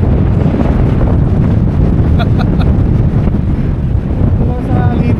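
Strong wind at a cold mountain campsite in Bokod, Benguet roars and buffets the microphone continuously and loudly, with a voice faintly audible beneath the gusts.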